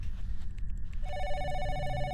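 A telephone in a horror video game office rings with a steady electronic trilling tone that starts partway through, clear and fairly close, with no talking.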